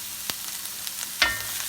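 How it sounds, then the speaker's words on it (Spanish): Red chard and peeled broad beans fry in a pan with a steady soft sizzle, broken by a couple of sharp clacks as the vegetables are stirred; no one speaks. "La acelga, en este caso acelga roja, importante que se sofría bien"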